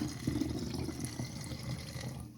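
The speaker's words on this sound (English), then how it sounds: "I have my funnel, and I'm just going to pour that in there to fill that up." Water is poured through a funnel into a spray bottle, a soft steady trickle and gurgle heard up close and quietly without any speech.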